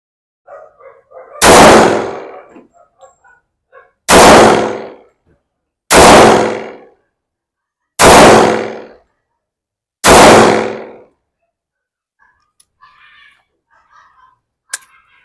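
Five loud gunshots from a Springfield Armory XD-S Mod.2 .45 caliber pistol fitted with a red dot sight, spaced about two seconds apart, sharp and close with decaying reports, faint background sounds between shots.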